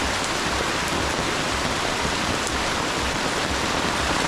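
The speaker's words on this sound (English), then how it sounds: "The rain is pretty gloomy, pretty bad, pretty heavy." Heavy rain pours during flooding in the Philippines, a dense, steady hiss of downpour with no pauses and no voices.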